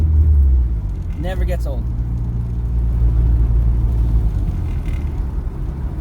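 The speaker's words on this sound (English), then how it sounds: "That sound, that spool, the blow-off valve," A turbocharged, K-swapped rear-wheel-drive Starion rumbles steadily from inside the car during a drive, loud and continuous, with a short spoken remark early on over the engine noise.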